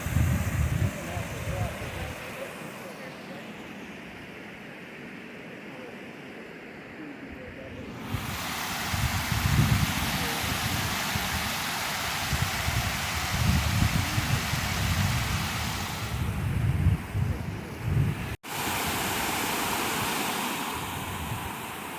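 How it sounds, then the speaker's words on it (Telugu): Water rushes steadily over the overflow of an upper reservoir in Black Rock Forest near Cornwall, New York. The broad, continuous roar is loud and close and holds for the whole stretch, with a brief drop near the end. "ఇది రిజర్వాయర్ ఓవర్ఫ్లో"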